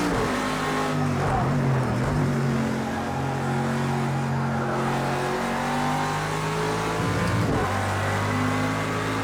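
A race car engine in a racing video game roars continuously through a lap, its steady loud tone shifting pitch as it revs up and down through gears, close and unbroken.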